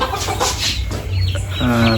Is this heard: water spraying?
no